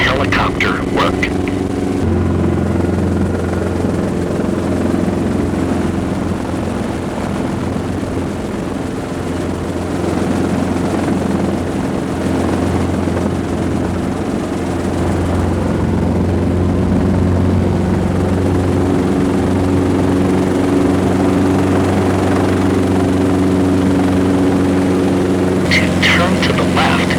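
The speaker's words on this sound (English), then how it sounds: "where Scott showed me how controls on a helicopter work." A helicopter's engine and rotor drone loud and steady for the whole stretch, close by, with a voice talking over it.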